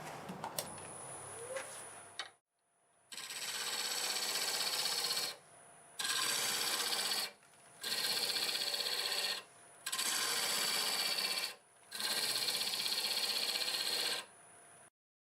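A wood turning tool cutting a Siberian elm bowl on a lathe, several loud sustained cutting passes of about two seconds each, separated by short pauses, close and clear after a brief quieter start.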